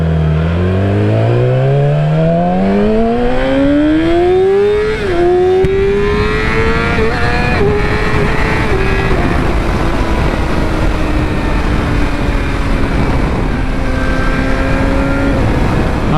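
A Yamaha R6 600cc sportbike pulls away and accelerates hard, its engine whine rising steeply through the revs, then settles into a steady high-pitched cruise with rushing wind noise, loud and continuous.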